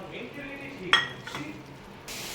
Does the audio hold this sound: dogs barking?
no